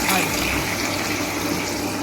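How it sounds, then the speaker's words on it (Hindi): Water is poured into a pan of roasted chicken masala to make gravy, a steady close rushing and splashing of liquid that holds evenly for the whole stretch. "हमें जितनी ग्रेवी चाहिए उसके हिसाब से यहाँ पानी डाल देंगे"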